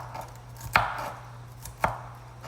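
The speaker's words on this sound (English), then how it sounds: "I'm just going to chop up this bell pepper really quickly" A kitchen knife chops a bell pepper on a board, giving two sharp, close cuts about a second apart over a low steady hum.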